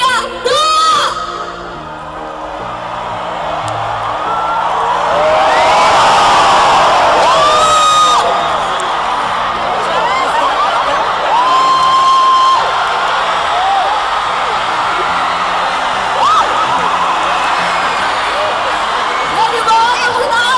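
A live stage-show audience cheers and whoops while doing a wave across the seats, the crowd noise swelling and sustained, with voices shouting throughout.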